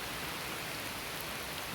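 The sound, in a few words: rain falling in dark woods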